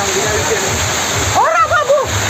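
Cold, deep flowing water rushes steadily at a water park, with a brief raised voice calling out over the constant wash.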